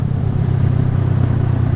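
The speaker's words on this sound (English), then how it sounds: "let you listen to the wife's old bike with the new exhaust on it" A motorcycle engine with a new exhaust rumbling low and steady at close range, a deep throaty exhaust drone with no voices.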